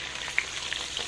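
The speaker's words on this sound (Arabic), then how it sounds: "هدي بقى تشويحه للبصل، اديله برده كده ايه تشويحه يتغلف كده مع الزبده والزيت واللحمه" Onion sizzling with butter, oil and meat in a hot pan, a short, steady frying hiss with a few sharp pops and crackles, no voices.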